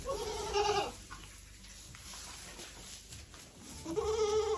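Young goat kids bleat loudly at the start and again at the end, with quieter rustling and shuffling in between, on a farm during bottle-feeding age.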